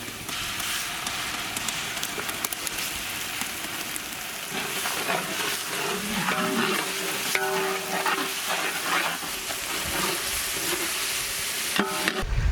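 Onions with ginger garlic paste frying in a pan for chicken with broccoli, a steady close sizzle with scattered crackles and utensil scrapes and clinks, rising slightly in the middle, no talking.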